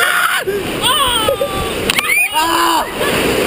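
Water splashes and sloshes loudly around a raft on the Kali River Rapids ride, a steady churning rush with riders' excited voices and shouts over it.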